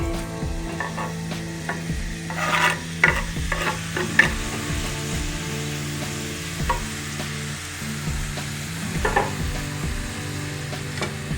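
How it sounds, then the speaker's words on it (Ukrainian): Chopped onions sizzle steadily in hot rendered fat, with intermittent scraping and stirring clatters from a utensil against the pan; no voices. "Поки цибулька підсмажується"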